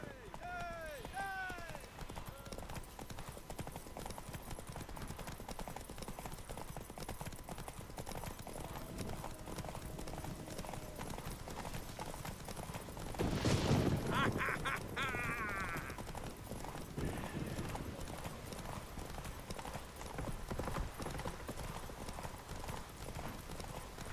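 Horse hooves in The Witcher 3: Wild Hunt clip-clop at a steady galloping rhythm throughout, with voices talking over them and a louder burst of sound near the middle.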